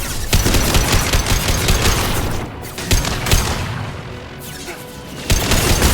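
Heavy sustained gunfire from the video game Mass Effect 2 on Insanity difficulty, loud rapid bursts and crashing impacts forming a dense barrage with brief lulls and a renewed burst near the end.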